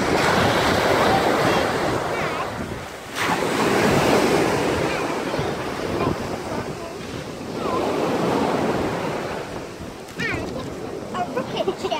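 Ocean waves crash and roll onto a beach in a steady, loud wash of surf, swelling and easing in cycles, with wind buffeting the microphone and voices faintly mixed in.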